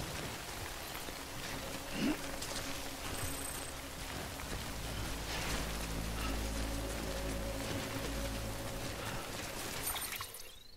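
Rain falling in the video game Death Stranding, a soft constant patter with low rumbling underneath and no talk.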